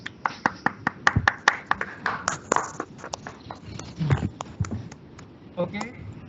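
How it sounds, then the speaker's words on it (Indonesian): Scattered applause at an agricultural seminar on pre-emergence herbicide weed control: a few sharp, distinct handclaps close by, irregular and thinning out, with some talk underneath. "Kita berikan tepuk tangan untuk Bapak Insinyur Aminuddin Taibang."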